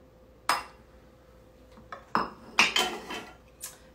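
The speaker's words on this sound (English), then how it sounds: "Let me get my spatula here and get that butter off there" A spatula scrapes melted butter from a dish in a home kitchen, giving several short, fairly loud scraping and clinking strokes with brief pauses between them and no talk.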